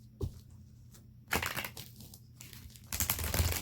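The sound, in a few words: shuffling tarot cards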